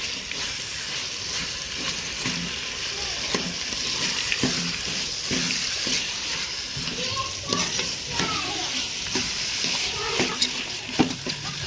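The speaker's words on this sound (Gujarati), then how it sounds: "મિત્રો આપણે કાજુ હવે નાખી દઈએ. આપણે હલાવી નાખીશું કાજુને." Cashew nuts frying and sizzling steadily in a pan, with repeated scraping and clinking strokes of a spoon stirring them throughout, close and moderately loud, no talking.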